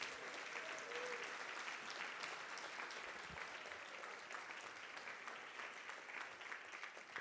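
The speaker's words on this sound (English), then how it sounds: "Can we get a huge round of applause for all of our honorees?" Sustained applause from a luncheon audience at a National Philanthropy Day event honoring award recipients, a dense wash of clapping heard from some distance, steady throughout with no one talking over it.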